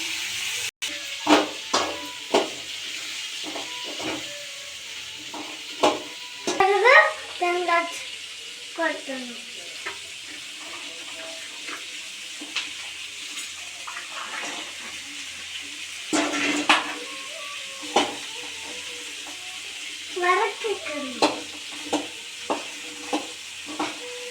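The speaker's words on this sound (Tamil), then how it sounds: "வதக்கிக்கிட்டு இருக்க பொருட்களோட இப்போ கொஞ்சமாக எண்ணெய் விட்டு சேர்த்துக்கலாம்" Ingredients with fennel and cumin sautéing in oil, a low continuous sizzle broken by repeated scraping and stirring clatters, with a voice talking at times over the cooking.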